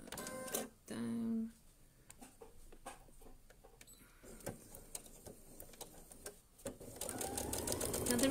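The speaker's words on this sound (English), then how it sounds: "So I'm going to sew that there." A sewing machine stitches an insulated water bottle carrier in short bursts of rapid ticking, separated by pauses and clicks, building to a longer run at the end; close, quiet, with brief speech early on.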